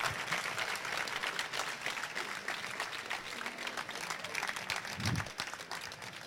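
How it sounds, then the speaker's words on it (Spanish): Audience applause fills a room steadily throughout, dense and even, with a brief low thump near the end. "Un aplauso."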